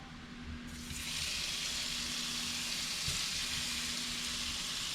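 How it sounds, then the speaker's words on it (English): Shrimp dropped into a pan of simmering ginger sauce set off a soft, steady sizzle that swells within the first second and then holds at an even hiss, quiet and close with no talk. "Hear that sizzle."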